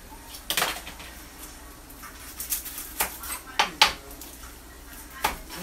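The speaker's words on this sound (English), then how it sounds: "cut some onions" Knife cutting a yellow onion on a board makes close, sharp knocks at irregular intervals, some in quick pairs, over faint background noise.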